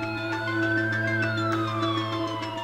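A phone ringtone imitates a police siren, giving a loud, steady electronic wail with sustained tones and a sliding pitch, heard alone and close.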